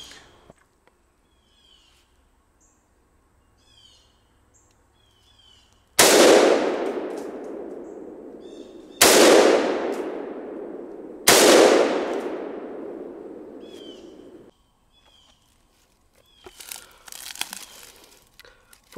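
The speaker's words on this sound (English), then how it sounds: "first 3 shots with the AK" Three loud, sharp Century Arms AK rifle shots fired at an outdoor range, spaced a few seconds apart, each with a long echoing decay.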